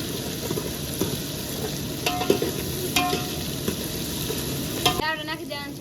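Ingredients for a spiced dry curry sizzle and fry steadily in hot oil in a pan while being stirred, with a few sharper scraping clinks partway through and no talking.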